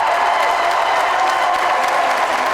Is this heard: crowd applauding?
yes